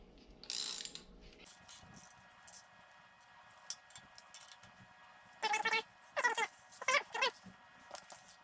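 Ratchet clicking in quick bursts while bolts are snugged down on GM 243 cylinder heads fitted to a turbo Camaro, a few sharp rapid runs of ratcheting near the end after quieter handling noises.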